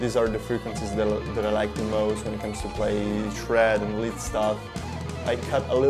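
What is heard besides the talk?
None of the usual background noises is heard.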